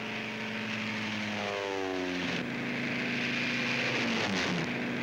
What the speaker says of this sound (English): These are the first ships to take off in the airborne invasion of Fortress Europe.